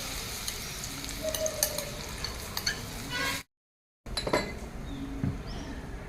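Grated mango is stirred into a cumin and mustard-seed tempering, crackling and sizzling with light utensil clinks and scrapes, cut by a short stretch of total silence partway through.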